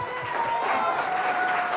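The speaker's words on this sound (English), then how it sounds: "Another applause for Ala." An audience at a talk event breaks into a brief burst of steady clapping that fills the room.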